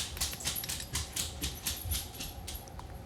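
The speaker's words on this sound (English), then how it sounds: "If you're hearing a clicking noise, it's one of my dogs running around on the hardwood floor" Dog claws click and patter on a hardwood floor as a dog runs around indoors, a fairly faint, uneven series of sharp ticks close by with no speech.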